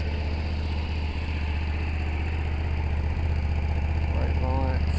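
A Hyosung GT250 motorcycle engine idles steadily with a low, continuous thrum and gets a slight rev, close and constant throughout, with a person speaking briefly over it.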